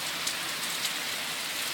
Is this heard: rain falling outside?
yes